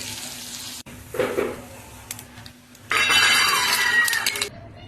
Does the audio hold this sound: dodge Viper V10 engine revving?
no